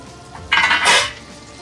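Fried rice with bacon stir-fried in a pan, a short burst of sizzling and scraping that swells for about half a second and then fades, close and alone with no talk.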